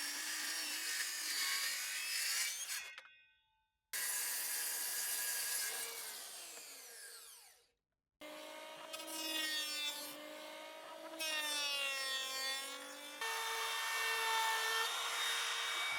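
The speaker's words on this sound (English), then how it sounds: "there was a lot of cutting to be done with all the different saws I have." Several power saws cut through wood for a greenhouse table base in separate passes, each a loud, whining cut with a shifting pitch, broken by short silent gaps, close and alone.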